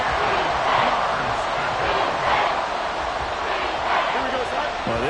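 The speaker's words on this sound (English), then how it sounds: "Well, this crowd is making an impact right now." A football stadium crowd at a Bears game roars in a dense, continuous wall of cheering and shouting, loud and swelling slightly throughout.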